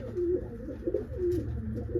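A female pigeon coos softly in repeated low, throaty phrases, close by, with no talking.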